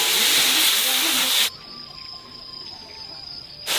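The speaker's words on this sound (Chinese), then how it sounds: "木耳下锅" Wood ear mushrooms stir-fried in a wok produce a loud, steady sizzle for about a second and a half. A quieter stretch with a thin, high insect-like tone follows before the sizzling hiss returns abruptly.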